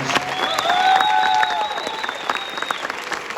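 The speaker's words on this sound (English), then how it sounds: "I round of applause for all the dancers." Audience applause for the dancers at a Special Olympics Utah DanceSport exhibition, a steady burst of clapping that thins out after about a second and a half, with scattered whistles above it.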